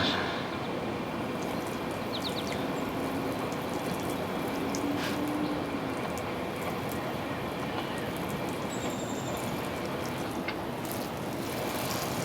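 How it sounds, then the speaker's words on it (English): Water sprayed steadily onto freshly planted sunflower seeds in a bucket, a continuous close hiss and patter with no break. "give it a good spray around here, right around the seeds"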